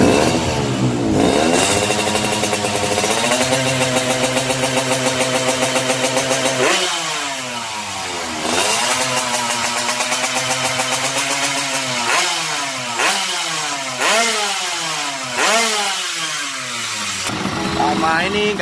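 A Yamaha RX King two-stroke motorcycle with a stainless piston, a new Thai block and WZ ignition revs loudly and close by. It climbs repeatedly to high rpm and drops back to a rattly idle between the bursts.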